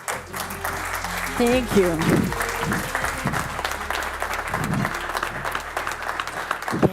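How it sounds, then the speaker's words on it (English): Audience applause fills a summit hall on EU enlargement, steady clapping from a crowd that swells and holds for several seconds while a voice speaks briefly over it. "So a round of applause."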